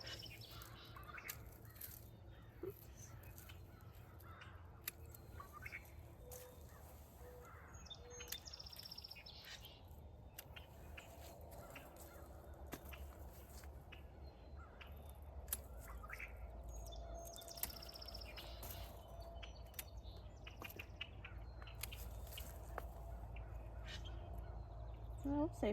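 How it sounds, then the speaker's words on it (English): Faint birds chirp and call outdoors in a garden, scattered through a soft, steady background hum. "so nice to come out and hear all the birds"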